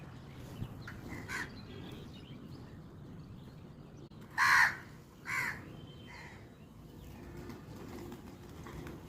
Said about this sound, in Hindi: कौआ काँव काँव ही करेगा कि यहाँ भी आएगा।